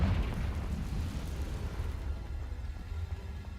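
A Confringo fire-blast spell explodes in the Hogwarts Legacy video game, a deep, rumbling boom that hits hard at the start and then fades into a low crackling tail.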